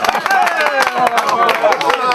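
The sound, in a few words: audience applause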